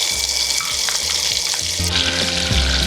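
Garlic sizzles loudly and steadily in hot oil or butter in a pan for a lentil dal tadka, a dense continuous frying crackle with a few soft clinks partway through and no talking.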